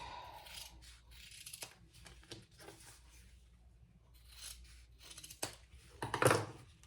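Small thread scissors snip through nylon webbing in a quiet workshop, a few crisp close-up cuts and rustles spread over several seconds, with a louder snip near the end.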